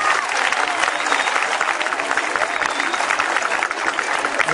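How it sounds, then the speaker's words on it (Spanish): Loud, sustained applause from a crowd, dense clapping that holds steady for the whole stretch. "debemos de darle un aplauso a todos los papás"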